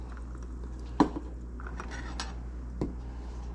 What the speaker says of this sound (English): And give this a light stir.